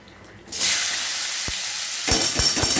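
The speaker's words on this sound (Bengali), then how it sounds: "এবার সবজিগুলো দিয়ে দেবো তেল, ওই তেলে, মাছের তেলে।" Vegetables hit hot fish oil left from frying small fish, a loud broadband sizzle that bursts in after a short quiet start and holds steady, with a few soft clunks of stirring near the end.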